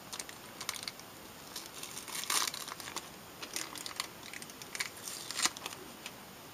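Wax paper peeled and scratched off a craft mold by fingernail, giving quiet, scattered crinkles and scratchy rustles in short bursts, close and fairly soft, with no talking.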